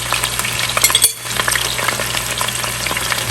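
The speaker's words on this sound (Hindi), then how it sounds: "ये मेरे पास अदरक लहसुन का पेस्ट है, ये मैंने 1 टेबलस्पून डाल दिया।" Ginger garlic paste sizzling and frying in a pan, a steady crackling hiss with faint stirring, close and loud.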